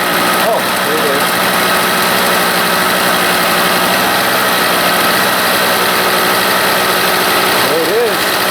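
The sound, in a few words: Harbor Freight generator engine running after head gasket replacement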